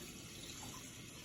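Tap water runs into a sink while bubbles are rinsed off washed dishes, a faint, continuous splashing hiss that stays fairly even with no voices.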